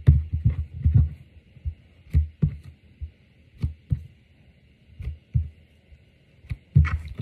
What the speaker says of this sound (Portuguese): é muito bom ficar apertando e escutando o barulhinho dela